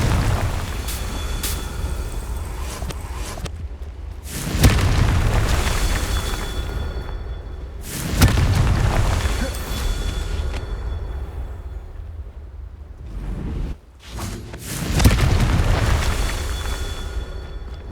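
Confringo fire spell explosions in the video game Hogwarts Legacy, several loud booming blasts spaced a few seconds apart, each with a sharp onset and rumbling decay over continuous background game ambience.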